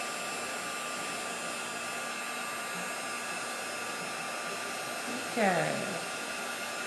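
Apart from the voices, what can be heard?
heat gun melting embossing powder on a card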